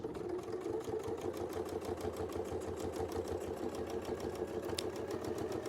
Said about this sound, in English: we're going to sew this one all the way back down to the bottom